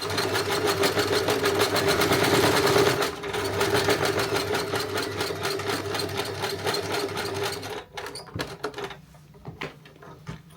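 A sewing machine stitches a jacket to its lining in fast, steady, close mechanical bursts. It pauses briefly partway through, then slows and stops near the end with a few handling clicks.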